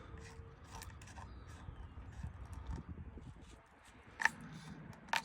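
A gift card scrapes old gasket material off the differential of a 1990 Ford Ranger, with faint, irregular rasping strokes close by and a couple of sharper knocks near the end.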